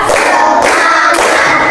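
A high school class claps out a rhythm ice-breaker, with loud bursts of group clapping mixed with chanting voices in short, blocky phrases.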